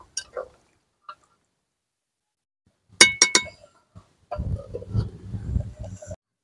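A lid set onto a cooking pot of jackfruit chicken curry gives a quick, bright metallic clink cluster, followed by soft bubbling and rustling in an otherwise quiet kitchen, with brief faint speech at the start.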